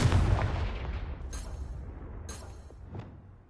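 A Confringo explosion spell goes off in Hogwarts Legacy with a heavy, booming blast up front, followed by a rumbling tail and a few sharper crackling bursts trailing off.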